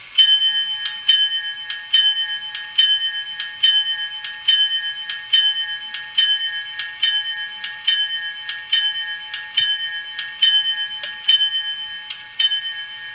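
The locomotive bell on an Atlas HO scale AEM-7 model with an ESU LokSound decoder clangs in a steady, even rhythm of about three strikes every two seconds. The bright metallic tone rings alone and loud throughout.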